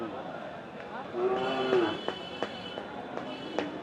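Cattle at a busy bull market low and moo in a few drawn-out calls, fairly close, over background crowd chatter and scattered knocks.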